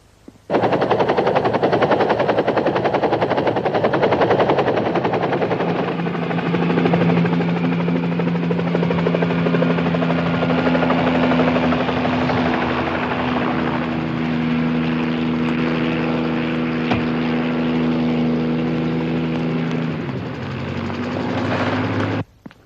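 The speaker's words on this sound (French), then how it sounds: "Prends l'hélicoptère, en moins d'une heure, t'es là-bas." A helicopter flies with a loud, steady rotor thump and turbine whine, sustained and close for about twenty seconds before cutting off abruptly.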